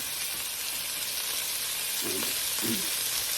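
Butter sizzling in a pan over medium heat, a steady close hiss with a couple of brief scraping stirs near the end, no talking.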